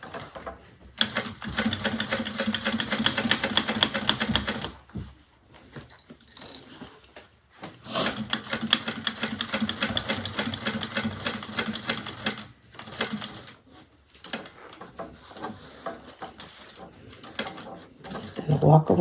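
A sewing machine stitches a bag in two long rapid bursts of rattling clatter separated by pauses, then shorter uneven runs and handling noises, fairly close.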